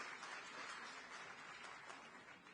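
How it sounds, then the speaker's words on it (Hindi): A rally crowd applauds for Ashish Sood, giving a dense, even wash of clapping that sounds fairly distant and holds steady throughout without any talk over it. "एक बार जोरदार तालियां आशीष जी के लिए भाई"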